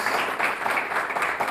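A church congregation claps for the King of Kings during a Spanish-language service, a steady wash of applause filling the short moment at moderate level.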